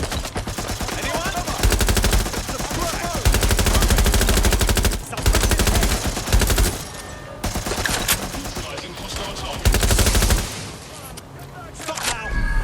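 Sustained automatic gunfire in the video game Watch Dogs: Legion, dense rapid bursts with brief pauses between volleys, loud and close, with voices shouting over the shooting.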